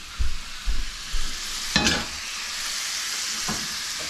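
Sausage renders in a large pan for Polish sauerkraut and sausage soup, a steady close sizzle broken by a few scraping stirs early on and a sharp clatter midway.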